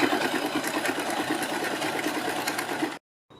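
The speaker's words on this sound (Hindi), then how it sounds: "इसके ऊपर सिलाई लगाएंगे।" A sewing machine stitches a folded strip down on a kurti sleeve, running steadily and close for about three seconds before stopping abruptly, with a brief sound returning at the very end.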